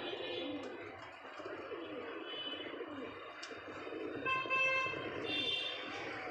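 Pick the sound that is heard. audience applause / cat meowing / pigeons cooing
pigeons cooing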